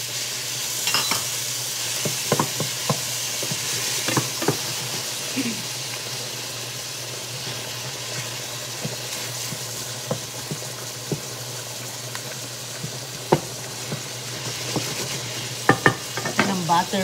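Ground pork giniling sizzles and fries steadily in a pan, with frequent close scrapes and clinks of a spatula stirring, continuous and fairly loud without talk.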